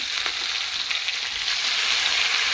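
A fish head frying in oil in a pan makes a dense, even, crackling sizzle that holds steady for the whole stretch, close and fairly loud with no voices.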